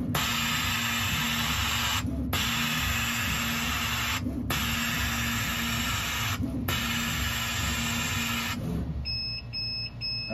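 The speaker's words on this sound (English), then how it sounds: "You heard that pneumatic valve turn on and off with each cut." Pneumatic air assist valve on a CO2 laser cutter clicking on and off with each cut, a loud steady rush of air broken by four short gaps, over a constant machine hum.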